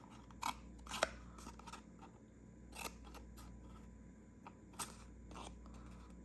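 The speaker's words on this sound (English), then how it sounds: "I'm just snipping down to the cardboard" Scissors snipping paper down to cardboard while making a treat pocket, a series of quiet crisp cuts spaced irregularly, close by over faint room hum.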